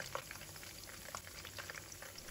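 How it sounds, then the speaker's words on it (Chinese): Battered king oyster mushroom pieces deep-fry in hot oil over low heat, a soft continuous bubbling sizzle with light crackles, fairly faint and steady. "全部下锅以后，先不要去搅动它，让它炸30秒，炸至定型"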